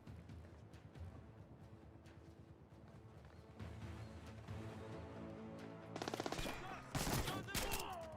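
Gunfire from the stealth shooter Splinter Cell Blacklist, with penetrating bullets: a dense game soundscape where sharp bursts of shots crack out loudly in the last couple of seconds after a steadier background.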